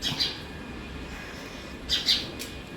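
At dawn, a couple of short bird chirps sound at a moderate distance, one at the start and a pair near the end, over a steady outdoor hum with no voices.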